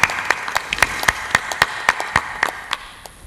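Listeners at a 2010 spiritual discourse in Ratlam, Madhya Pradesh, applaud with sparse, sharp claps that come in an uneven rhythm, close and fairly loud, then fade out, with no talking over them.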